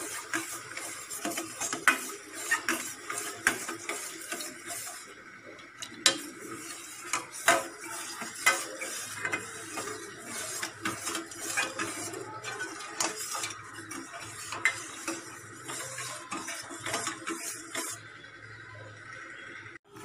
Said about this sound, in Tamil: இப்போ நான் கேஸில் வச்சுருக்கேன் நல்லா கைவிடாமல் ஸ்டெர் பண்ணிகிட்டே இருங்க